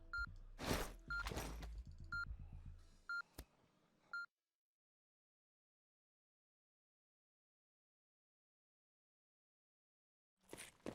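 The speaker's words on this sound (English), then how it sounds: "I know you hear that crate beeping" A beeping crate in the DayZ video game gives a few short electronic beeps amid other brief game noises early on, followed by a long stretch of near silence before faint sounds return at the end.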